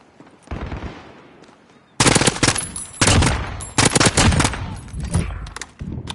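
Automatic gunfire from a tap-fired weapon in the video game Modern Warfare: a quiet start, then loud rapid bursts of shots from about two seconds on, with short breaks between the volleys.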